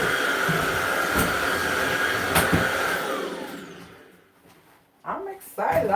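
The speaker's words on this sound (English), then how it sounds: "I love my little vacuum cleaner." A small vacuum cleaner whirs loudly and steadily as it picks up spilled soil from a kitchen counter, then winds down and stops, followed by brief handling noises.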